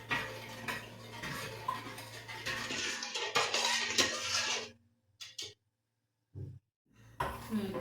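Sugar dissolving in a pot for homemade mango syrup is stirred with a spoon. Soft scraping and clinking carry on steadily, then give way to a few sparse taps separated by near silence.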